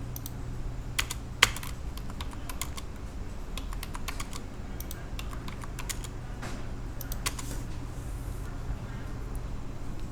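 Commands typed on a computer keyboard while drawing in CAD software: scattered bursts of key clicks, close and fairly quiet over a steady low hum, with no talking.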